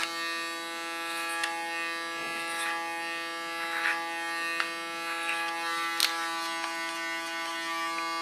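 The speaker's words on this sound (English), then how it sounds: "Put my blade in the largest position, it's 2 millimeters, and use my clipper as a comb." An electric hair clipper with its blade set to the 2 mm position cuts hair for a short haircut. It gives a steady, close-up motor buzz broken by small clicks and snips as it passes through the hair.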